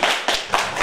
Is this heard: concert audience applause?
yes